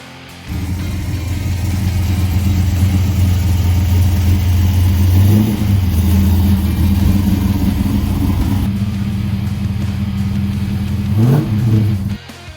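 A Camaro engine runs loud and close, then revs and pulls away with a rising pitch at each of two gear changes before cutting off abruptly, and no one speaks.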